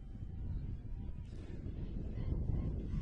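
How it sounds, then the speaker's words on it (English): Steady low wind rumble buffets the microphone throughout at an outdoor softball game, with a faint voice underneath. "It is very windy here"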